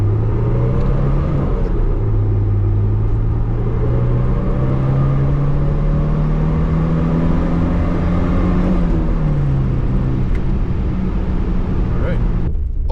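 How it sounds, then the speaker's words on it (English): A cheap old pickup truck pulls off with a little tire spin, its engine revving in a loud, close, continuous drone that rises and falls in pitch for the whole stretch. "A little tire spin."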